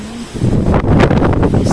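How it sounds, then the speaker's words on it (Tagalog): Strong gusty wind batters a home garden as a storm seems to be coming on, roaring into the microphone in loud buffeting surges. "Yan, grabing hangin. Sobrang hangin."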